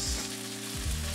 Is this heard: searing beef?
yes